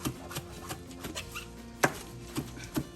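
A knife chops fresh mint leaves for chutney on a board, a few soft scattered taps with one sharper knock, fairly quiet and with no talking.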